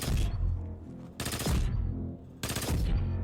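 The Graviton Lance, an exotic gun in the Destiny 2 video game, fires in three loud, dense bursts of rapid shots, each ringing out with a booming tail before the next volley.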